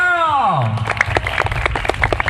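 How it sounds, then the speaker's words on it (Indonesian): Applause breaks out from an audience at an Indonesian mosque gathering as a tone fades, a steady spread of clapping continuing to the end with voices mixed in. "Tepuk tangan dulu dong."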